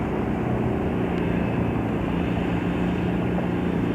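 A Beechcraft Bonanza flies at an airshow, its engine giving a steady, loud, unbroken propeller drone that holds level throughout without rising or fading.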